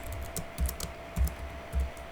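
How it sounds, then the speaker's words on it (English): Keys clack on a computer keyboard in a few short bursts of light tapping, each set off by a soft low thump, faint against a quiet electrical hum, with no talking. "let me just correct the typing there"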